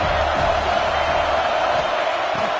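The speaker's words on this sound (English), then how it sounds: "This crowd bringing the energy and noise early." Steady roar of a football stadium crowd cheering and shouting, dense and continuous throughout, with no clear single voices standing out.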